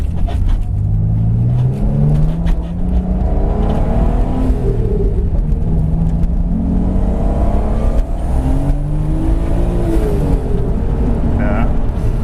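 A turbocharged project car accelerates on a test road, the engine rising and falling through gears in a steady loud in-cabin drone, with a voice speaking over it.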